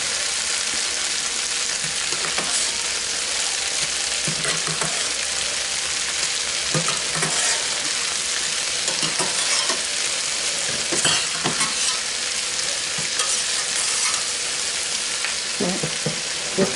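Carrots fry in a hot pan for pepper steak, giving off a loud, steady sizzle with occasional scraping and stirring clicks, close up and without any talk.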